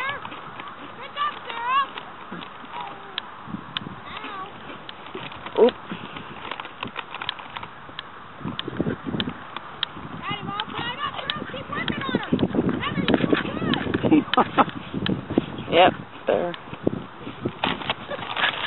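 Horses move around a field during polocrosse practice, their hoofbeats thudding in irregular clusters at mid distance, mixed with scattered movement noise, while people talk at times.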